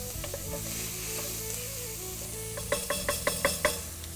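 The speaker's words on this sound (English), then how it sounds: "So give your pot a little bit of a stir." Onions sweat in a pot under a soft, even sizzle, then a spoon stirs them in a quick run of scraping strokes near the end.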